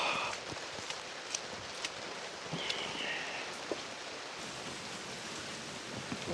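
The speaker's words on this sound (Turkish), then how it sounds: "Lan dolu yağıyor ya." Hail falls during a storm at a tiny house camp, a faint steady patter with scattered sharper knocks of ice hitting surfaces, irregularly spaced, with no talking.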